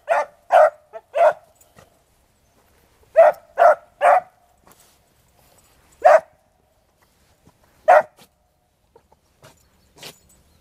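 A dog barks in short bursts: a quick triple, another triple, then single barks spaced apart, fairly close and clear against a quiet background.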